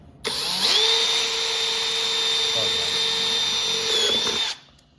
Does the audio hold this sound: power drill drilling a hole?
yes